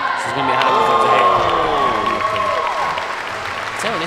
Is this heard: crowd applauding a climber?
yes